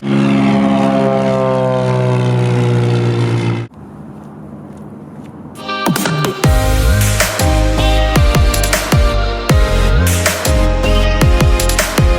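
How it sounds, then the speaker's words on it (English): A propeller airplane in Alaska, fueled and pre-flighted for a fishing trip to Polly Creek, drones loudly and steadily nearby, briefly quiets, then builds into a harsher, louder roar with shifting engine tones. "So let's get this airplane ready and let's go to Polly Creek."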